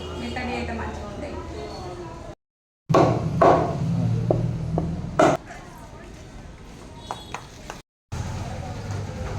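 Chicken is chopped into pieces on a chopping surface, heard as scattered sharp knocks, some loud and some lighter, mixed in with ongoing talk, with two brief gaps of silence.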